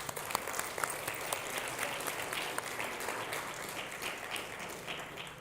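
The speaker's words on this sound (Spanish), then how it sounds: "¿Por qué no le das un aplauso a Él?" A church congregation breaks into applause, many hands clapping in a lively, textured patter with distinct sharp claps standing out, sustained at moderate loudness from start to finish with no talking over it.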